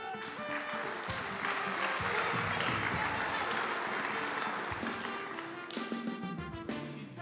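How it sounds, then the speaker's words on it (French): A conference audience claps at a tech awards event, the applause sustained and dense under bright musical tones and jingles that play throughout. "Vous pouvez l'applaudir."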